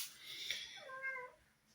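Pet cats meowing indoors: a single drawn-out meow rising and falling in pitch, fairly quiet and close, with no talking.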